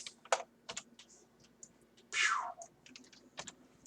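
Keyboard shortcuts being typed on a computer keyboard: scattered close clicks of keys, with one longer burst near the middle, no speech.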